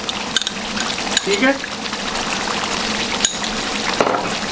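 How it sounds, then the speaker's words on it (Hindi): Yogurt spooned into a pot of chicken karahi where the oil has risen to the top, a brief wet plop and liquid slosh over a steady background sizzle, with a short spoken remark. "अब हमने इसमें ऐड करने हैं 4 टेबल स्पून योगर्ट"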